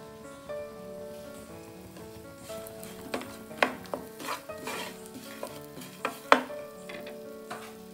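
Grated jaggery stirred into leftover ghee in a pan for aval puttu, with soft sizzling under a series of distinct spatula scrapes and taps that grow more frequent toward the end.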